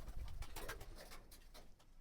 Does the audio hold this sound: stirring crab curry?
no